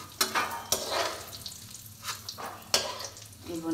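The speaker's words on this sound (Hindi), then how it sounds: "दोनों एक साथ भून लेंगे।" Cashew laddu ingredients dry-roast in a pan over a low gas flame, giving a soft, steady sizzle and rustle with a few sharp stirring scrapes, close and fairly quiet.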